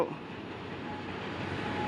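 A GE locomotive pulling empty cars rumbles steadily across a Bangkok road junction at close range, a continuous low roar with faint rattling and no voices.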